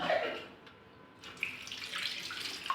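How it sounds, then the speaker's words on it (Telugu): Water is poured onto stove burner parts coated with Harpic toilet cleaner, a close, splashy running stream that starts loud, eases, then picks up again. "దీనికి కూడా ఆర్పిక్ వేసాను కొంచెం వాటర్ వేస్తాను"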